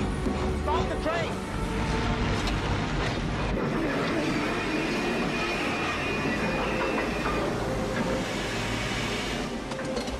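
A steady rumble and rattle of a train rolling on rails on a film set, continuous and fairly loud throughout.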